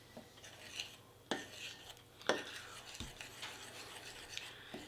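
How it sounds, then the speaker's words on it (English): A stirrer scrapes and clinks through a natural deodorant mixture of grapefruit and other ingredients. The stirring comes in a few distinct strokes with soft rasping between them, close by, with no talk. "you're going to grab your stirrer and just stir all this together"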